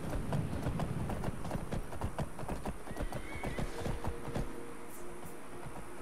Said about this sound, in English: Why do I hear the sound of a horse being attacked,